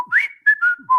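A man imitates a cockatiel's whistle call, giving a short, loud, clear whistled phrase of rising and falling notes that lasts about a second.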